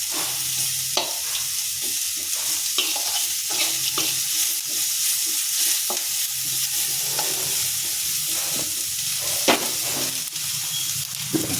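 Agathi greens and onions sautéing in a pan make a steady sizzle and frying hiss, broken by repeated scraping stirs and soft clinks at close range, with no talk.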